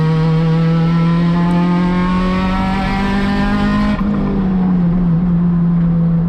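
Acura RSX-S racing at speed around Sonoma Raceway, its loud, steady high-revving engine note holding a sustained pitch that dips briefly mid-run as it closes on a Corvette, with no talking.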